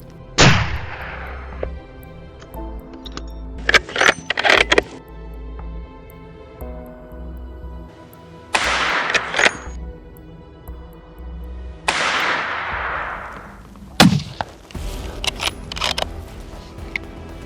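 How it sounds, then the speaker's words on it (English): Hunters fire rifles at target practice with targets out to 300 yards, sending out about five loud, sharp separate shots with long echoing tails and quiet gaps between them. "hunters shoot at targets set at 100, 200 and 300 yards, simulating the need for rapid accuracy in the wild"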